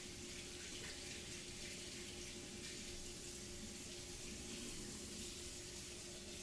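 A kitchen sink tap runs steadily for rinsing, producing a constant, close hiss of flowing water with no talk over it.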